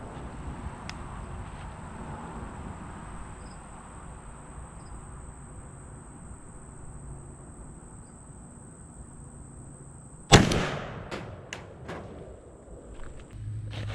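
Outdoors, a Benelli Super Black Eagle 3 shotgun fires one loud, abrupt blast of Remington 3.5-inch 00 buckshot over a quiet background of chirping crickets. A few fainter knocks and clatters follow the shot.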